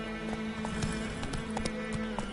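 Roach the horse galloping in The Witcher 3, a steady run of clip-clopping hoofbeats, fairly faint and close, over a low constant hum.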